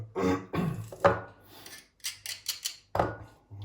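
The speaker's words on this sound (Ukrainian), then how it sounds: "Трошки чесничку беремо. Угу. Видавлюємо сюди" Garlic is squeezed through a press for a homemade garlic sauce, giving several short, crunchy, rasping squeezes and scrapes with brief pauses between them, close by.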